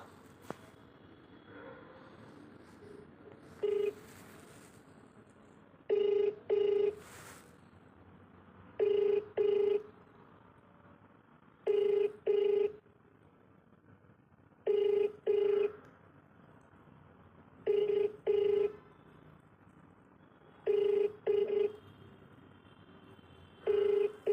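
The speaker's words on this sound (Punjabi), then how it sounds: "ਇੱਕ ਵਾਰੀ ਫੇਰ ਲਾਉਨੇ ਆ ਜੀ ਆਪਾਂ ਕਾਲ" A telephone rings back on a repeated call to a school principal, sounding in steady paired bursts about every three seconds over a quiet room, with no talk.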